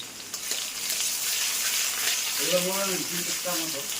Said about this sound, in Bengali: তাই এবার পেঁয়াজ দিয়ে দিলাম।